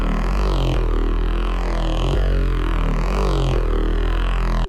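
Heavy neurofunk synth bass run through tape saturation and convolution reverb, a loud, dense growling tone with deep sub that swells and resets in repeating phrases roughly every one to two seconds, playing alone.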